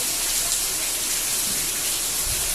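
Heavy rain pours down steadily in a village, a dense, continuous hiss that is loud and close throughout, with no voices.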